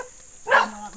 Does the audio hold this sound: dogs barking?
yes